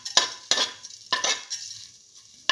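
Fenugreek seeds dropped into hot oil sizzle in sharp bursts, with several loud stirring scrapes of a utensil against the pan, each followed by a fading crackle, close and without talk.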